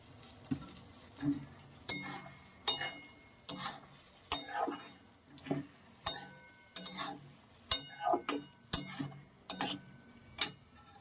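Peas and capsicum stir-fried in a wok, with a steady sizzle under repeated sharp scrapes and clacks of a spatula against the pan, coming in an irregular rhythm close by, with no talking.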